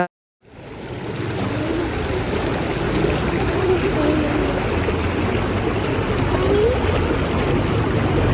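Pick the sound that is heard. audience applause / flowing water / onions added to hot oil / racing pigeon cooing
flowing water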